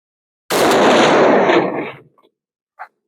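An AKM rifle fires a loud, close blast of gunfire lasting about a second and a half, fading into echoes, followed by a brief sharp knock a moment later after near silence.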